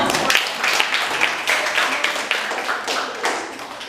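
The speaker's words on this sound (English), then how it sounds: "a round of applause everyone" A small classroom audience claps after a class debate, a modest round of uneven hand claps with distinct individual slaps, fairly close and tapering off toward the end.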